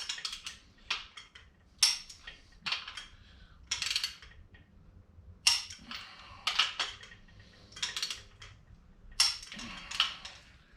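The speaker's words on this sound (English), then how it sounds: "Torque these down in 2 steps, 50 foot-pounds" Torque wrench clicking repeatedly while engine bolts on a small-block Chevy 380 cubic-inch assembly are tightened to 50 foot-pounds, giving sharp, close metallic clicks in uneven bursts with short pauses between them.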